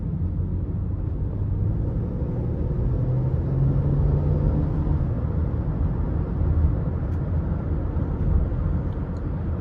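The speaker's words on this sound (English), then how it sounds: "We'll give it some throttle again here." A 2013 Acura RDX Tech with the 3.5 engine, a small SUV, accelerating under throttle, heard from inside the cabin as a steady, loud, low engine drone and road rumble with slight swells.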